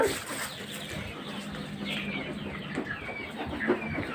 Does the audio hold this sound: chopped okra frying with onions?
no